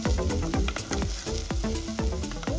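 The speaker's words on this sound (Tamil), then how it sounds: "வெங்காயத்தை போட்டு முதல் தாளிக்கிறார்." Onions sizzle loudly in coconut oil in a pan for a Sri Lankan prawn and egg masala curry, with repeated scraping strokes of a stirring utensil in a regular rhythm.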